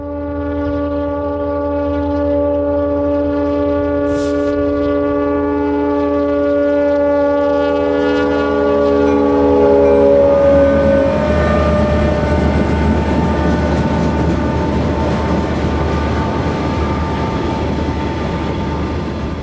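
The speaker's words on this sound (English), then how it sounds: "A westbound Burlington Northern freight is just west of Akron, Colorado" A westbound Burlington Northern freight train rumbles steadily past near Akron, Colorado, with a long, sustained horn blast at first, then grinding, rushing rail noise that grows louder and fills the rest.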